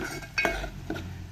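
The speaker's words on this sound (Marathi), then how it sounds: "छान आता भाजून घ्यायचं" Mutton masala roasting in a pan on a village-style stovetop, a spoon scraping and stirring with two clear strokes over a steady low sizzle, close and fairly quiet with no talk.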